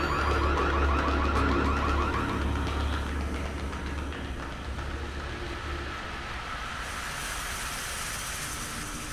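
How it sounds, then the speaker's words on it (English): An alarm blares inside a bank in Splinter Cell Chaos Theory, a loud, piercing warbling siren that cycles rapidly for a few seconds before easing into a lower, hissing mechanical drone with no voices. "Fisher, watch the alarms."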